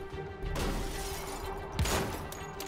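Glass shatters from gunfire in the video game Wolfenstein: The Old Blood, a brief crash rising out of dense, steady game noise.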